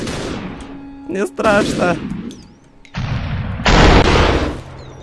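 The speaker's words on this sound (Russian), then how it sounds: "Окей, этот чувак стреляет по мне, стреляет по мне." Enemy gunfire in the video game SUPERHOT, heard as several bursts of sharp shots mixed with game effects, with someone talking and reacting over them.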